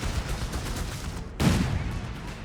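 Gunfire and a rifle grenade burst from a Company of Heroes 3 battle: steady crackling small-arms fire that swells into a sharp, louder blast about halfway through, then continues as a dense fusillade.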